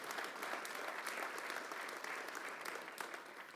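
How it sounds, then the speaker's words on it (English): An audience at a forum event gives a round of applause, a continuous, even wash of many hands clapping, heard somewhat distant and quiet throughout. "let's give them a round of applause as well"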